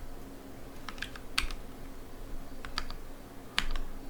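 Keyboard keys tapped in short, sparse clusters, a few sharp clicks spaced across the clip, including a save shortcut pressed on a computer during a web programming lesson, over a steady low room hum.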